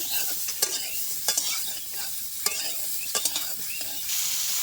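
Cauliflower frying in a pan until browned: a steady, loud oil sizzle punctuated by several sharp stirring scrapes and knocks at irregular intervals.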